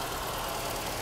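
A 1985-era Mercedes-Benz W123 230E with first-generation mechanical fuel injection idles, giving a steady, even engine rumble with no other sounds.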